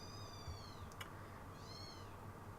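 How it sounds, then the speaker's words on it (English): Kittens give a couple of thin, high mewling squeals about a second apart over a low, steady background hum. "If you can hear squealing, it's the kittens."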